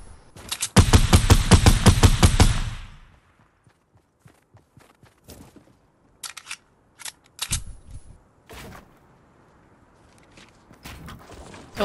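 Shooting in a video game: a loud, rapid burst of automatic fire in the first few seconds, followed by scattered single shots and clicks at lower level over a quiet background.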